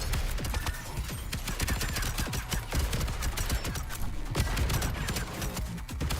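Missiles firing in the video game Void/Breaker as a dense, continuous rapid barrage of sharp bursts, loud and steady throughout with no pauses.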